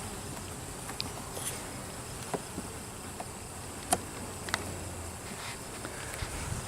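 Honey bees buzz around an opened hive during a nectar dearth, a steady, moderately faint drone with a few sharper nearby buzzes and light clicks, with no voices.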